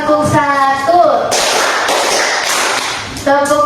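A classroom of students claps together in a burst of many overlapping hand claps, loud and close, with a teacher's voice speaking before and after.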